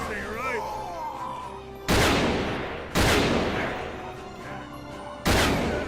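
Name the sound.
gunfire from a gun in the video game Fallen Aces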